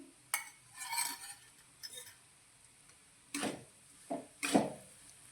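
A spoon clinks and scrapes against a pan while flour roasts in ghee for mohanthal, a Gujarati sweet, giving quiet, sparse metallic ticks and taps in irregular bursts.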